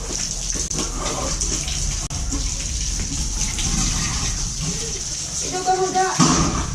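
Water runs from a tap in a steady rushing gush, close and moderately loud, while people talk over it and some noises and clatter sound in the background.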